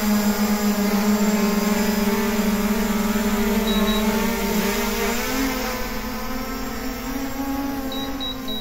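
The Visuo Zen K1 Pro drone hovers close by with a loud, steady, high-pitched propeller whine and buzzing motor drone that holds level for the whole stretch, easing slightly toward the end, with no talk.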